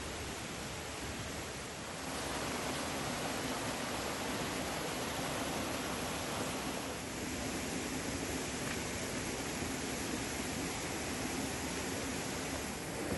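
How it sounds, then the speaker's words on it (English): A waterfall on Moorea or Tahiti, about 90 meters high, pours as a dense, steady broadband roar that stays loud and unbroken throughout, with no voices. "The waterfall sound just kept getting louder and louder as you got closer"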